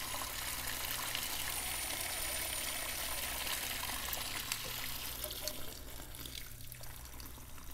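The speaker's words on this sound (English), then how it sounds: "Okay, our relief valve is draining." Water drains steadily from a Febco 860/880 backflow preventer's relief valve as a continuous close rushing gush that holds level throughout and eases only slightly near the end.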